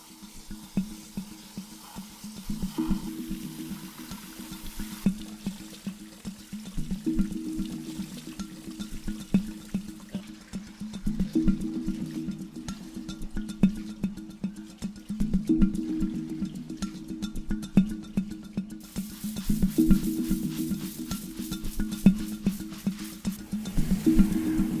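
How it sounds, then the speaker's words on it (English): Water pours steadily into a tropical aquarium tank being filled, a continuous splashing and gurgling flow with periodic swells in intensity, heard alone without talk. "So now it's time to fill up the tank."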